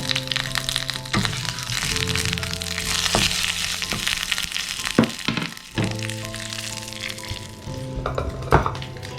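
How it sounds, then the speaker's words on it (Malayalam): Spices sizzle and crackle in hot coconut oil, with roasted ground fenugreek added, a steady hiss broken by sharp pops and a few clinks of stirring. "വെളിച്ചെണ്ണയ്ക്ക് ഒരു ചെറിയ ചൂടുണ്ട്. അപ്പോൾ ആ ചൂടിലേക്ക് ഞാനൊരു നുള്ള് ഉലുവ വറുത്ത് പൊടിച്ചതിലേക്ക് ഇട്ട് കൊടുക്കുന്നുണ്ട്."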